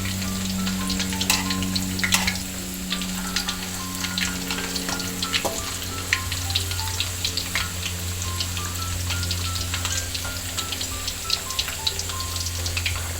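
Potato slices fry in hot oil for crispy potato fritters, a steady close sizzle dotted with constant crackling pops throughout, no one speaking.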